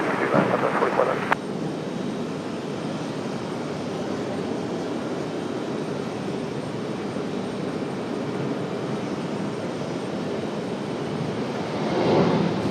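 A Southwest airliner on approach to runway 23 left at RDU, heard as a steady, loud broadband roar holding for the whole stretch, with a brief louder burst at the start and a swell near the end.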